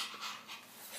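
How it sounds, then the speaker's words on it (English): A dog named Boo Boo pants rapidly in soft, airy huffs, a steady quick rhythm heard close and fairly quiet with no talking over it. "And his trusty dog, Boo Boo."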